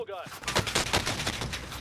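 Rapid automatic gunfire in the video game Call of Duty Warzone, a dense burst of close, punchy shots in quick succession lasting about a second and a half, with a brief voice at the start.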